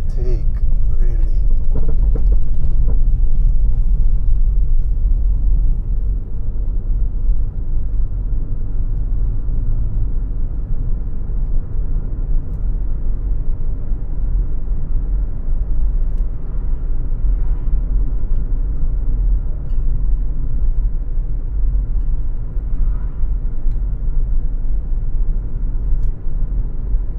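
A car climbs steadily uphill on a rural road between Saint Elizabeth and Manchester, Jamaica, giving a constant low engine and road rumble throughout, with speech faintly present beneath the drone.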